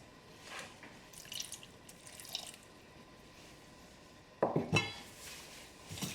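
Warm water pouring from a ramekin into potato and onion pakora batter, a short splashing trickle near the end after quiet kitchen sounds, close and moderately loud.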